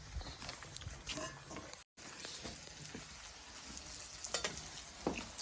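Vegetable chops fry in a wok with a low, steady sizzle and a few soft scraping stirs, heard quietly throughout.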